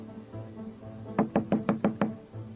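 A fist thumps hard on a door, six loud, evenly spaced knocks in a quick run, close by, with faint room tone before and after.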